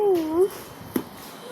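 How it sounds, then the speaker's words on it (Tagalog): A cat inside a mystery box gives a single short meow at the start, close and clear, followed by a small knock on the box. "Bakit may pusa dyan?"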